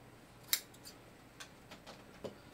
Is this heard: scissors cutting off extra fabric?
yes